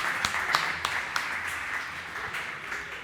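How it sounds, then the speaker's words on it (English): Audience applause follows a startup pitch at a pitch event, with a few sharp individual claps standing out from a thin, fairly quiet spread of clapping lasting a few seconds. "Big round of applause, please."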